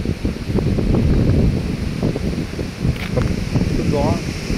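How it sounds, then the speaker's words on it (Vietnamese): Strong wind from a super typhoon, number 3 of 2024: a loud, continuous roaring buffet of gusts hitting the microphone, with a voice speaking faintly underneath. "Sức gió đây là không phải vùng vân tâm bão, đây là vùng tâm bão ở đây."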